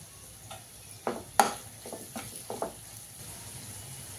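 Curry leaves and capsicum frying in a pan for a meal maker fry, a faint background sizzle broken by a handful of sharp crackles and pops as the leaves hit the hot oil.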